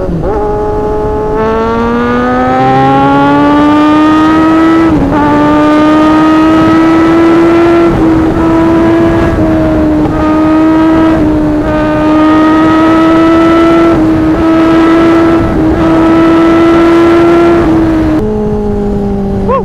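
A 1000cc motorcycle accelerating hard at speed, a loud, continuous engine wail climbing through the gears with several brief dips at each shift, close and sustained throughout under strong wind rush.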